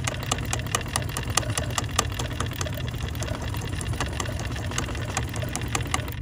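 A BERNINA sewing machine runs steadily with rapid, even needle ticking over a low motor hum, continuous and close for the whole stretch with no talking.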